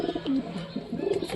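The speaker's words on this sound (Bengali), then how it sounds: "দেখছো তোমরা? কবুতরে মারপিটে দাও," Two local pigeons fighting coo in close, repeated throaty bursts, clear and fairly loud with no voices over them.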